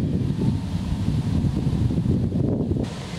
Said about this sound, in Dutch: Er staat super veel wind vandaag